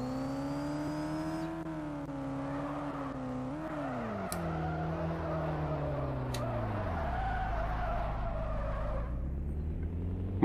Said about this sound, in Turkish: hemen yanlamaya başlayalım